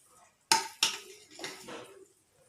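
Metal cookware clanks as the pot of country chicken biryani is opened, two sharp clinks close together followed by softer scraping and rattling of the lid and utensils, nearby and fairly quiet, with no talking.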